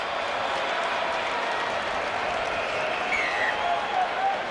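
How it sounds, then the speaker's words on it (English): A stadium crowd at the Hong Kong Rugby Sevens applauding a try, dense sustained clapping and roar, loud and continuous throughout. "And the applause from the crowd."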